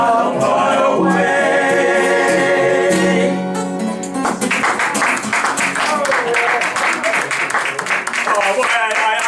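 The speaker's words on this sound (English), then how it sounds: "what's this applause? I did a fancy ending there." Audience applause breaks out at the close of a gospel song, a dense, steady patter of many hands filling the room as the final sung and instrumental notes fade out, with a voice speaking over the clapping.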